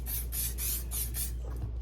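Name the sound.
spraying Carbon Pro protector onto a bag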